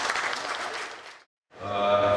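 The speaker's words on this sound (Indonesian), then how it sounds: "Tepuk tangan buat TNI kita." Audience applause at an agricultural work visit with farmer groups and officials, a dense burst of clapping that stops abruptly, followed after a short silence by a steady tonal hum.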